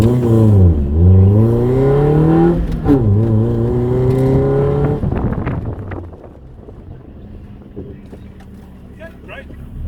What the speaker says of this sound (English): You rev it and drop the clutch when you're ready.